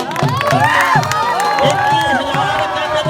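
A crowd roars and whoops with cheering at a kushti wrestling match in Gagret, with Pritpal Phagwara facing Monu Delhi. The excited shouting is loud and sustained, with rising and falling yells, and faint claps may be mixed in.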